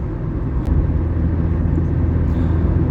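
Steady low engine rumble and road noise from inside a moving car, constant throughout with no talking.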